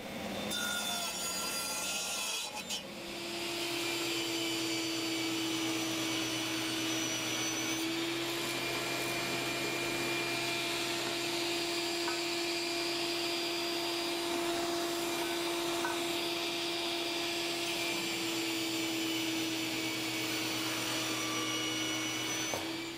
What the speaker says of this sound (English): let's go over to the saw and start cutting